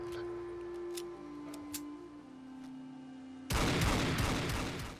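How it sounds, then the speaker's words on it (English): A custom weapon firing in a Fallout 4 mod: quiet ticking and a faint hum give way to a sudden loud, dense burst of gunfire that keeps roaring to the end. "this weapon also features a custom sound"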